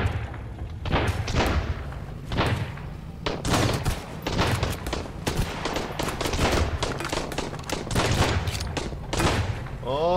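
Repeated gunshots in the survival video game Sunkenland, with heavy thumping blasts fired in irregular bursts, punchy and close, partly overlapping one another, with occasional quiet talk underneath.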